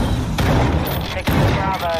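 A Semtex grenade goes off in a Call of Duty: Modern Warfare II firefight: two heavy, punchy blasts about a second apart ride over steady battle noise and gunfire, with a voice talking through the chaos.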